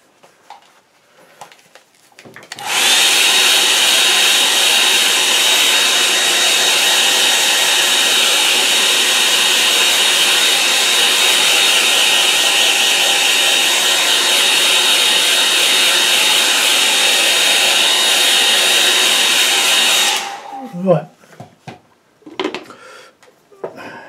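A hair dryer roars steadily at close range for about seventeen seconds, drying a watercolour painting, then cuts off, leaving faint handling clatter.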